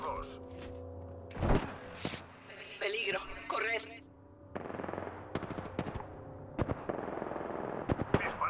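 Bursts of video game gunfire crack out in short volleys and single shots, mixed with game sound effects, while a voice talks over parts of the action.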